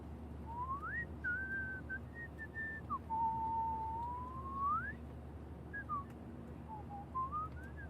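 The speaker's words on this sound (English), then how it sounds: "Do you mind not whistling?" A character in the video game Life is Strange whistles a wandering melody of several drawn-out notes over a quiet airliner cabin hum, fairly close and clear.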